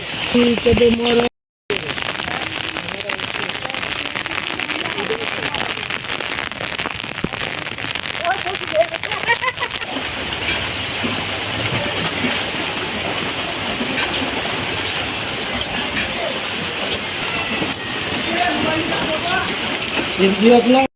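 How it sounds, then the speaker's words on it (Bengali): Dense, steady rain hisses loudly and without letup, briefly cut out near the start, with a person talking faintly beneath the downpour. "আমাদের এখানে প্রচুর বৃষ্টি হয়েছে।"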